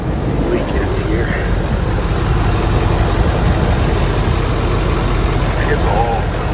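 A Ford 6.7 Powerstroke diesel engine with an oil leak idles with a steady low rumble and a constant drone, close by, while a person talks over it.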